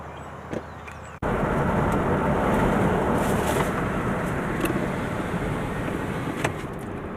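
A car drives along Route 66 in Arcadia, Oklahoma, its steady, fairly loud road and engine rumble starting abruptly after a short quiet moment and continuing unbroken to the end.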